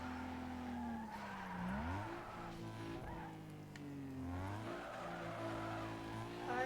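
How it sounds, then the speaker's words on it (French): Tires squeal and skid as a car drifts in Need For Speed Underground 2, the engine pitch dipping and climbing through repeated slides over a steady revving drone, without talk. "C'est drift."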